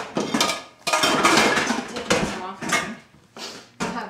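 Pampered Chef stoneware baking stones and pans are shifted and set down in a kitchen, giving repeated close, clattering knocks and clinks in short bursts separated by brief pauses.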